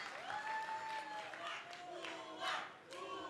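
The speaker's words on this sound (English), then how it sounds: "this Moscow arena absolutely buzzing with people" Crowd in a Moscow boxing arena cheering and applauding at an amateur bout between Russian and Cuban boxers, a dense steady roar of voices with rising shouts and whistles.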